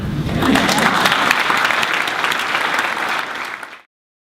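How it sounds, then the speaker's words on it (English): A loud, dense burst of audience applause after a speech, sustained for several seconds before cutting off abruptly. "you can clap on that"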